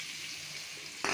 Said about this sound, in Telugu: టమాటాలు బాగా మెత్తగా అయ్యేదాకా వేయించుకొని